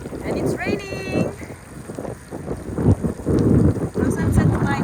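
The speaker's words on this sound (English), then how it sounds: "And it's raining." Rain falls steadily during a countryside bike ride, a constant broadband hiss mixed with gusty wind buffeting the microphone, with a brief whistling tone and faint muffled voices partway through.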